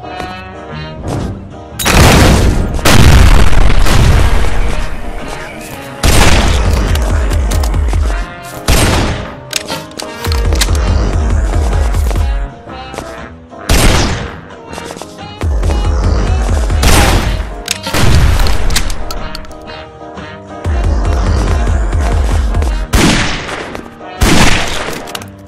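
Gunfire in the video game Gun Gore & Cannoli, loud rapid bursts of shots and booming blasts repeating in clusters, very close and dominant throughout.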